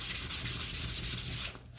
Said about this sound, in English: you're going to sand them in the direction of the grain as well